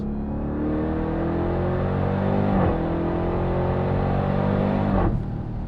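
A 2021 Dodge Durango SRT Hellcat's supercharged engine pulls hard on a track, a loud steady roar climbing in pitch with two quick shift dips, close and continuous with no talk.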